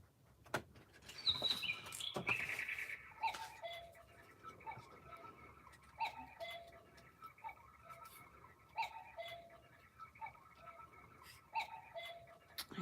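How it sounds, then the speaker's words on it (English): A small bird chirps in a repeated pattern of short, bright calls, spaced roughly a second apart, fairly near and clear in an otherwise quiet indoor room. "I hear you, bird"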